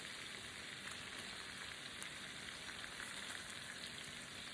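Shrimp sizzle in a hot pan for New Orleans BBQ shrimp, a steady bright hiss with a fine crackle throughout, close and fairly quiet, with no voices.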